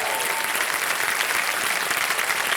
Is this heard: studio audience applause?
yes